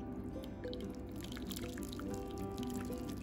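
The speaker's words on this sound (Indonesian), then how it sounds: "aku tambahin air panas." Hot water poured into a pan of beef ribs for rawon, a steady close trickle and splash with faint dripping throughout, no voices.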